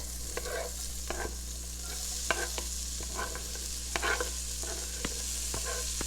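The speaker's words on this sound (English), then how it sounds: "turn it down to a medium heat and put in the onion" Chopped onion fries in oil over medium heat, a constant gentle sizzle close by, punctuated by repeated light scraping clicks from stirring at an irregular pace.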